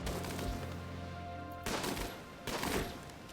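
Bursts of explosions from glow pods blowing up in the game RimWorld, two loud booming blasts after a dense layer of game noise and music, each with a crackling tail.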